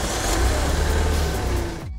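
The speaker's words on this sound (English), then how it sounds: "Just listen to its engine roar when it starts." A kids' ride-on toy truck plays a loud, steady engine roar that rumbles continuously with a low growl, cutting off abruptly at the end.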